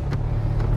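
Steady low rumble inside a car being driven, loud and constant with faint road noise and no voices.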